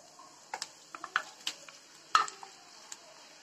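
Raw chicken tips into a pan of browned onion and whole spices, giving a low sizzle broken by several sharp clatters and scrapes of stirring, close and fairly quiet.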